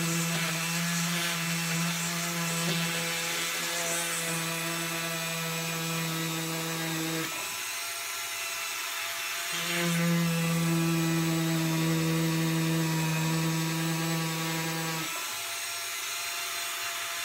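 Rotary tool drilling into wet stone for a pendant at moderate speed, a steady droning whine with a pitch that shifts and briefly drops out, close and continuous.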